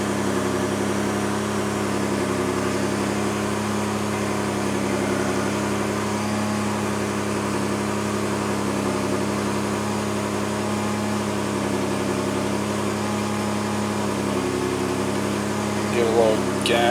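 A 3rd Gen Toyota 4Runner engine idles steadily and running rich, a constant low hum with a faint rhythmic pulse, under a voice throughout.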